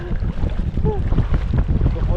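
Strong wind buffets the microphone on a riverbank in Taiwan, a low, rumbling roar with gusty swells that continues throughout while people talk faintly beneath it.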